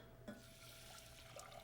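Two cups of water poured from a cup into a pot holding one cup of rice, a brief soft splash and trickle that lasts under two seconds, quiet and close.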